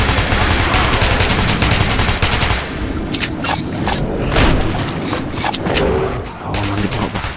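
Rapid bursts of gunfire from the video game Metro 2033 Redux, dense and loud, with overlapping shots and booms that break off briefly midway before resuming.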